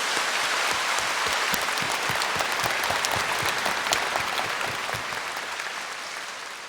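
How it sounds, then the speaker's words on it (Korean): A church congregation claps in thanks during a worship service, a dense, steady burst of applause that holds strong and then slowly fades toward the end. "우리 주님께 감사 박수를 드리십니다."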